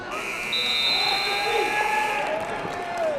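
A basketball game buzzer sounds over a loud arena crowd during a ranked game, a long steady electronic tone held for a few seconds amid cheering and noise.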